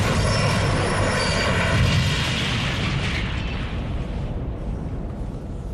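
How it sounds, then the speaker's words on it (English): A high-speed ICE train derailing at about 125 miles per hour and crashing into a road bridge, heard as a loud, sustained roaring rumble with broad crashing noise that slowly eases but keeps going throughout. "125 miles per hour, ICE 884 derails and hurtles towards the road bridge"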